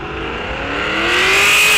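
Muscle cars at a Rock Falls Raceway drag race launch, engines revving and climbing steadily in pitch as they pull away, loud and close with a rising whine, no talk.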